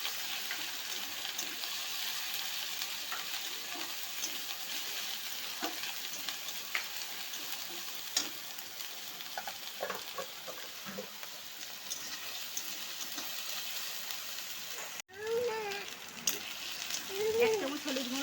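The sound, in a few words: onion and ginger paste frying for fish curry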